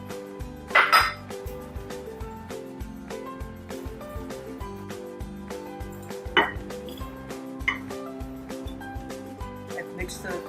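Melted butter and firmly packed light brown sugar are mixed in a bowl, with a utensil clinking and tapping against the dish in an uneven rhythm, several sharper clanks standing out while a person talks.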